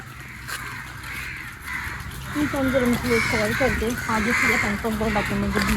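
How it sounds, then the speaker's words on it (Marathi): Several crows caw repeatedly in harsh, overlapping calls at Vasco beach in Goa, growing louder partway through, with people talking nearby. "हो खूपच कावळे ते"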